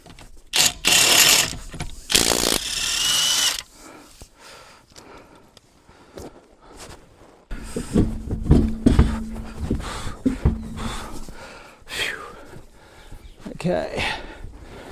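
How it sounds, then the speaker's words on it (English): A mechanical ratcheting, whirring tool sound from an impact wrench in use during work, with loud bursts near the start and more gear-like buzzing later, heard close up with some breathing and handling noise. "this impact wrench makes the whole thing a lot easier"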